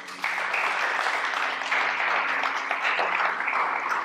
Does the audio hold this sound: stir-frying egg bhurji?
no